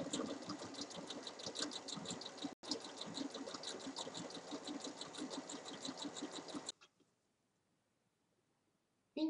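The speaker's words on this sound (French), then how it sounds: "Ensuite, on vient surjeter la couture." Overlock sewing machine serging the assembled four-sided seam of a cushion cover with an envelope closure, a steady rapid whirring stitch running close and loud for about seven seconds, with one brief pause, then stopping into near silence.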